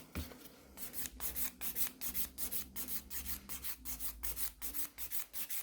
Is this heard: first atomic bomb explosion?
no